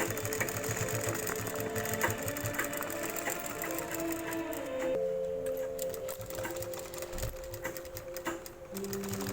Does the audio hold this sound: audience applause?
no